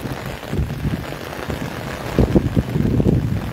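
Steady rain with a noisy wash of wind buffeting the microphone, growing slightly heavier toward the end.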